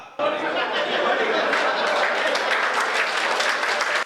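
Steady, dense applause from a large audience at a Hindi comic poetry gathering, continuous and loud from start to finish with faint chatter mixed in.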